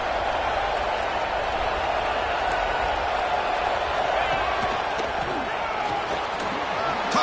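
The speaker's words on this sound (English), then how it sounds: "And here comes the noise. This crowd is trying to inspire this defense to make a big red zone stop." A football stadium crowd at a Tennessee Vols playoff game roars steadily while the defense tries to make a red zone stop, a broad continuous wash of cheering heard under a commentator's voice.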